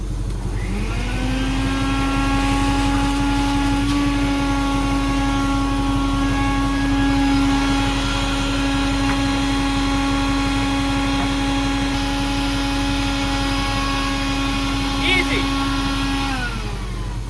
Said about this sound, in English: We're gonna use our evacuation unit for brake fluid.